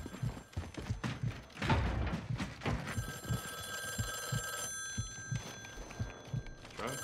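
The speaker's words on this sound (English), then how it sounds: "Why did I hear that? Phone ringing?" In the Warzone Ghosts of Verdansk Halloween mode, a phone rings in a steady repeating electronic tone among game footsteps and thuds, moderately loud, with faint voices in the background.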